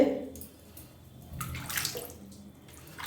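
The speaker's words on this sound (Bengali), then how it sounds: "এখন এই জলে স্নান করবে" Water is poured into a child's bath, splashing and trickling in short, faint bursts close by, with a quiet pause between pours.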